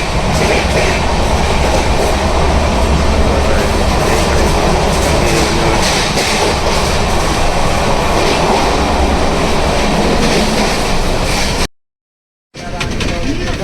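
A Mumbai to Pune passenger train pulls away from Lonavala and runs along with a loud, steady rumble and rhythmic clickety-clack of wheels close by, broken by a brief dropout near the end.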